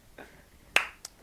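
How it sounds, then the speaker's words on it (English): A single sharp hand clap at a tabletop roleplaying game session, loud and close, with a fainter short slap following a moment later. "The clap was unnecessary."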